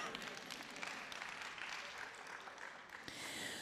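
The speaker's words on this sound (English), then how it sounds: "That's a clap." An audience claps in a brief, faint burst of applause at a preaching lecture.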